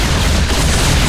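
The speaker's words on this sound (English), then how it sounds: "Hit him with the Yamato cannon." Yamato cannon fire in the real-time strategy game StarCraft 2, a loud, dense blast of rumbling booms and crackling impact noise filling the whole short moment with no talk.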